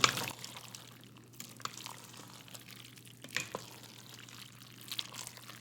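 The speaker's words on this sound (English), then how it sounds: "I'm going to stir it so we can get the ground beef from the bottom" Creamy pasta shells with ground beef being stirred in an Instant Pot, a quiet scraping and sloshing of a spoon through the bubbling pot with faint soft clinks, close and alone.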